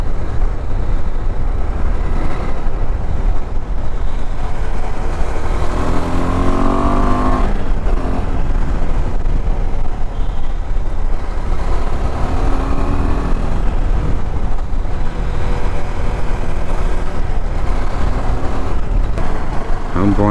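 KTM ADV adventure motorcycle engine running steadily while riding toward a mountain ghat near Pithoragarh, a constant loud drone with wind rush and shifting engine tone throughout, no pauses.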